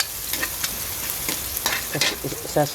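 Garlic sautéing in a pan for ginataang kalabasa with lechon, a close sizzle broken by quick scraping stirs of a spatula.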